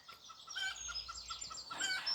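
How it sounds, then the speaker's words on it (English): Chickens make soft chirping clucks outdoors, a few faint calls spread across a couple of seconds with no talk over them. "See, the chickens agree."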